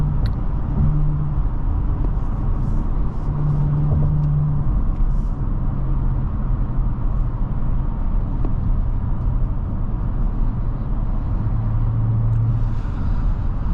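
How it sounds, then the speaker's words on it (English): A 2023 Audi S5 Prestige in dynamic mode, its engine note enhanced by a sound actuator, gives a steady low rumble from inside the cabin during a drive, with faint road noise. "It just uses a sound actor which enhances its natural sound in dynamic mode"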